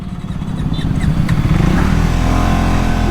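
A Triumph 350 motorcycle engine runs steadily close by, its loud, even idle rising slightly as it settles into a continuous throaty rumble.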